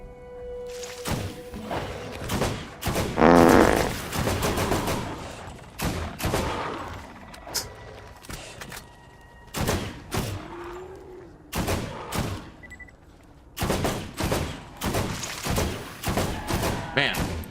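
Gunfire from a weapon in Borderlands GOTY Enhanced, fired in rapid bursts and single loud cracks across the stretch, close and punchy, with game effects and brief pauses between volleys.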